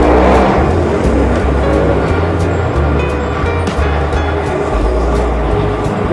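A train at a station, heard while changing trains, gives a loud, close rumble with repeated low thumps and clattering wheel sounds. Brief squeals and metallic clicks ride above the rolling noise.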